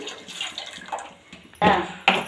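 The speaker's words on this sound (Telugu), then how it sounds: "మళ్ళీ తగినన్ని నీళ్ళు వేసుకోవాలి." Water splashes into a pan of Andhra-style fish curry (chepala pulusu) in two short, loud pours near the end, after a quieter stretch of kitchen sound.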